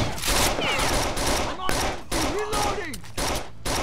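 Shotgun blasts and other gunfire in the video game Rainbow Six: Vegas 2 go off in dense, repeated bursts, loud and close, mixed with game effects and a voice speaking over the action.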